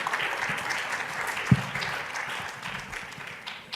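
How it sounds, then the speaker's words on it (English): A live audience claps warmly as a discussion panel walks onto the stage. The dense, close applause swells briefly, then slowly tapers off. "These guys deserve the real round of applause"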